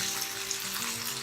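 Fish frying in hot oil in a pan, browning and cooked halfway through, makes a dense, even sizzle and crackle up close, with no voices over it.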